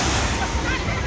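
Rushing water from a theme-park river rapids ride's waterfall scene, a steady broadband splash and roar close by, with a park visitor's voice mixed in.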